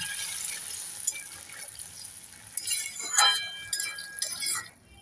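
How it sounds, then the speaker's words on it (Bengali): Water poured into a pan of aloo posto, a Bengali potato and poppy-seed dish, giving light trickling and clinking sounds that swell in bursts toward the end before cutting off abruptly, with faint background music. "এবার দিয়ে দেবো জল।"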